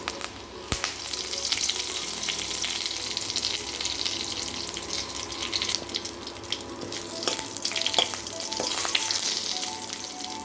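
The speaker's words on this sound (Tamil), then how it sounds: "இப்போ கடுகு உளுந்தும் தாளிப்பு ஆனதுக்கப்புறமா வரமிளகாய் ஒரு 2லேருந்து 3 வரமிளகாய் சேர்த்துக்கோங்க." Mustard seeds, urad dal, two or three dried red chillies and curry leaves sizzle in hot oil for a ven pongal tempering, a steady bright crackling hiss with a few sharp pops, close and continuous, with no talking.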